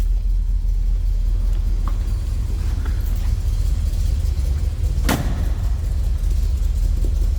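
Loud, close rumble of a 1959 Chevrolet Bel Air two-door post V8 idling with a mild cam, a steady deep lope throughout, with one sharp click partway through.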